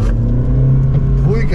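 A car engine pulls hard during a first driving lesson, a loud steady low drone that rises slightly in pitch toward the end, with a voice talking over it.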